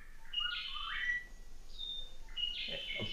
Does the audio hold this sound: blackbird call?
yes